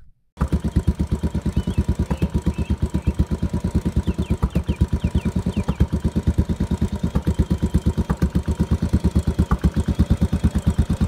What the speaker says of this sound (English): that characteristic rumble or thump that a single-cylinder engine has